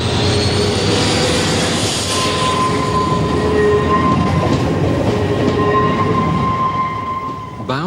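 A Class 91 high-speed electric locomotive runs with a loud, steady rushing roar, with faint tonal whines riding over the rumble throughout.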